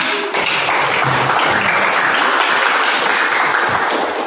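Classroom applause from a group of high school students after a post-test review, a steady dense wash of clapping sustained for about four seconds with no talk over it.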